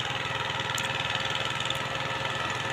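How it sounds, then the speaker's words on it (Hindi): A Lubi 2 HP motor pump draws water from a riverbank with a steady, close engine throb. The low pulsing thrum and mechanical hum carry on evenly throughout, with no talk. "ये देखिए मोटर से पानी पटा रहे हैं।"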